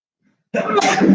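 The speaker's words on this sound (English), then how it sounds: "this is live, so I apologize if I sneeze." A single sudden sneeze bursts out after a moment of silence, close and fairly loud.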